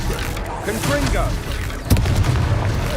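A Confringo spell explodes in the Hogwarts Legacy video game as one sharp blast partway through, over busy game sounds and voices talking.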